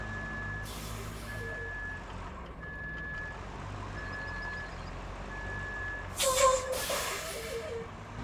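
Steady electronic reversing beeps from a dump truck backing up in Roadcraft, evenly spaced tones over a low engine rumble, with a short hiss of air brakes near the end.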